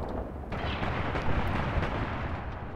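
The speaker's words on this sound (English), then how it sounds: "you're being targeted by artillery" Continuous rumbling barrage of artillery fire in the WWII tank strategy game Graviteam Tactics Mius, dense low booms rolling without pause at steady loudness, no talk over it.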